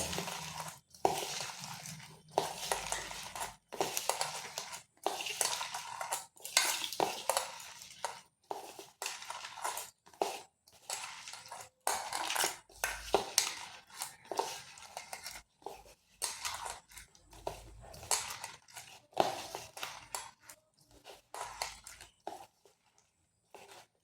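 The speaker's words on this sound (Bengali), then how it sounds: "লবণ দিয়ে পেঁয়াজটাকে এইভাবে ভালো করে একটু চটকে নিতে হবে" Chopped onion is mashed with salt by hand, giving a run of wet, crunchy squeezes that repeat at an irregular rhythm, close and fairly quiet.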